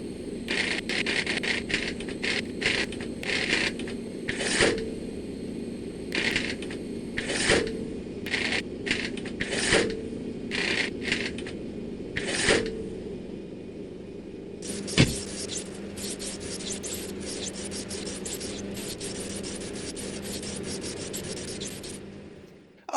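Repeated button clicks in the OMSI 2 bus simulator, a steady run of short clicks over a constant engine hum, growing denser and busier toward the end.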